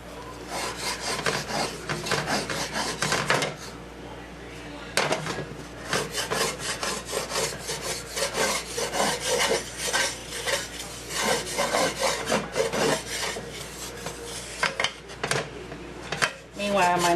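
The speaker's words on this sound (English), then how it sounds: "just go ahead and scrape up all these little bits of flavor" A spoon scrapes and rubs browned bits and flour across a pan bottom while making Salisbury steak gravy, with steady gritty scraping strokes that continue close and fairly loud throughout.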